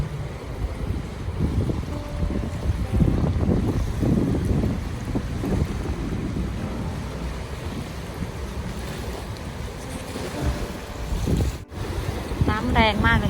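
Rough water churns and wind buffets the microphone while Finnish paddlers ride boats through waves on a cold, blustery day; the roar is continuous with a voice talking over it.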